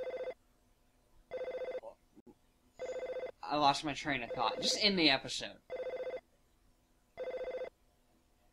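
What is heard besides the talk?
telephone ringing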